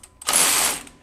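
DeWalt DCF513 20V cordless ratchet breaking a tight fastener free: a short burst of motor whir and clicking mechanism lasting about half a second, close and loud, with no voices.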